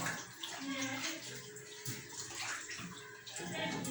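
Water poured into a pot of omena fish for a second wash, a steady splashing and gurgling pour that runs throughout at close range.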